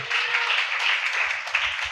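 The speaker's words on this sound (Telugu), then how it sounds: "చప్పట్లు కొట్టి గట్టిగా చెప్పండి" A church congregation claps together during a sermon, a dense, even wash of many hands that continues without a break for the whole moment.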